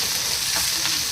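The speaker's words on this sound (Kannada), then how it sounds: "ಇದಿಷ್ಟನ್ನು ಒಗ್ಗರಣೆಗೆ ಹಾಕಿ ಫ್ರೈ ಮಾಡ್ಕೋಬೇಕು." Curry leaves, dry chillies and onions fry in hot oil as a tempering for sprouted horse gram sambar, giving a loud, close, steady crackling sizzle with no talk.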